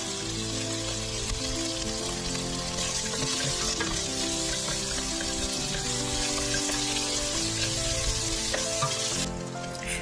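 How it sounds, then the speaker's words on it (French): Bacon browns in a hot pan with a loud, continuous sizzle and crackle, close up and steady throughout, with occasional stirring over faint music. "Je fais rissoler le lard."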